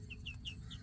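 Small chickens, recently moved onto fresh grass, make a few soft, high chirping clucks in a quick series, faint and close, with no talking.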